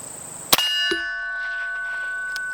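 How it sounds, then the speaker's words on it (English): A suppressed 5.56 rifle round striking a steel target, a single sharp metallic clang that rings on with a long sustained tone, heard alone with no talk. "when I hit steel, that steel is way, way, way louder than the gunshot"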